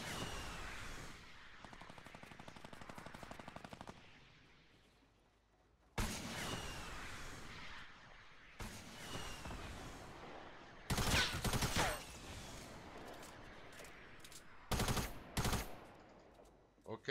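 Bursts of automatic gunfire and volleys from a battle royale video game, coming in several loud clustered rattles separated by quieter stretches, with occasional talk from players.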